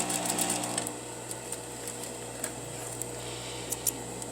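A sewing machine back tacks the seam of a patch pocket, giving a fast, steady mechanical whir with a short burst at the start, followed by faint clicks and a low hum.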